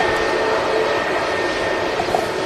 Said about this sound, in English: we've got a heavy aircraft on the taxi out, a 787-9 Dreamliner with Gulf Air